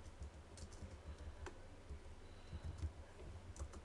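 Faint keystrokes on a computer keyboard while typing an image search on a desktop computer running Ubuntu Linux 9.10, scattered irregular clicks over a quiet room hum with no speech.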